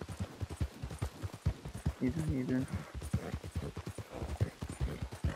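Rhythmic hoofbeats of a galloping horse in the video game Red Dead Redemption 2 clip-clop steadily, with a person talking over them and a brief musical tone in the middle.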